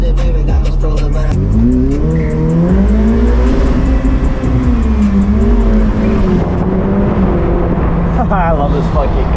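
A Ferrari F8 Spider's engine rises in pitch as it accelerates on a sunset city drive, loud and close, with a steady drone, rising harmonics and tire noise, and talk over it.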